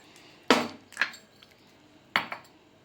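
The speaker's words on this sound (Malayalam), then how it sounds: "ഫ്ലാക്സ് സീഡിൻ്റെ പൊടിയും പഴവും തമ്മിൽ നല്ലപോലെ ഒന്ന് മിക്സ് ചെയ്യുക." A spoon knocks against a bowl while mixing flaxseed powder with banana, giving three sharp clinks spaced over a few seconds, close and clear with quiet gaps between them.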